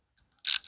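A socket wrench on a rivet nut tool gives one brief ratcheting click burst, preceded by a faint tick, short and close with nothing else around it.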